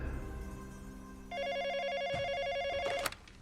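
A telephone rings with a warbling electronic trill that cuts in sharply over a faint background, holds for nearly two seconds and stops abruptly with a click.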